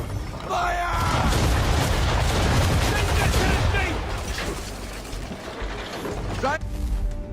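Broadside of ship cannons firing at an enemy vessel during a naval battle in Assassin's Creed 3, loud booming blasts and mechanical clatter filling the scene with dense, continuous noise, brief talk mixed in.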